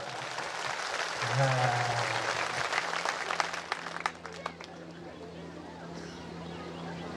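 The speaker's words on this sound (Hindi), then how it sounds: "जोरदार बजाओ ना ताली" A crowd at a rural religious gathering claps in a loose burst of applause that swells and then thins into scattered claps, with a voice speaking briefly over it.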